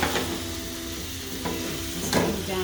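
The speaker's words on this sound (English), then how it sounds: "Everything sizzled up in here." Pepper steak sizzles steadily in a pan with onions and peppers, a continuous frying crackle broken by a few louder scraping stirs near the start and toward the end.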